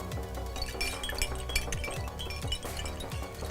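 Metal monisto, an old Udmurt coin necklace, clinks and jingles in close, bright, continuous shimmering bursts with soft irregular clicks.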